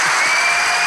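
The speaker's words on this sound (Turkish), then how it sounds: "Alkış devam ederken" Thick, continuous studio audience applause at the close of a Turkish TV show, loud and uniform for a brief moment.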